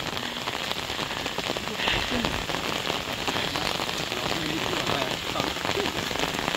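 Heavy monsoon rain pelts a town street in a dense, unbroken hiss, loud and close throughout, with no pauses.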